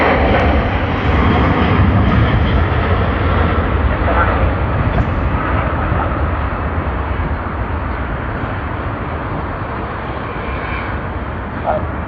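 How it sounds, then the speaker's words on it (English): All Nippon Airways jet airliner on flight NH890 to Tokyo Haneda at Sydney Airport, a loud, steady broadband engine roar that holds throughout, near and dominant, with no other sounds standing out. "Let us get ready for NH890, the service to Tokyo Haneda on all Nippon Airways."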